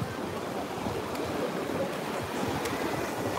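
Black Sea waves wash against the shore at Odessa in a steady, continuous rushing wash with a gentle breeze, moderately close and with no voices.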